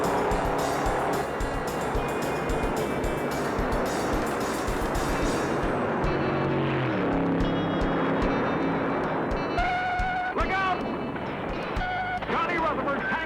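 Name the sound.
stock cars racing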